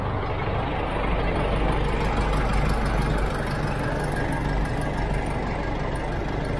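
An open jeep's engine drones steadily as it drives along a dusty road, a loud, continuous low rumble with no break and no talking.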